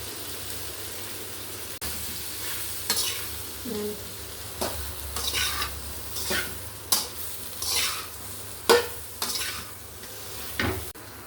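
Ground masala with turmeric and salt frying alongside okra in a pan, an even sizzle under repeated scraping stir strokes and occasional utensil clinks, close by, without speech.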